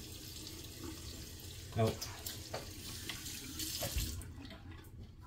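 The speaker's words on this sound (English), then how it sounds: "I was wetting my face for the next pass" Water splashing from a running sink tap while wetting the face between passes of a Sta-Sharp safety razor shave, with a brief splashy burst in the middle and a short spoken exclamation.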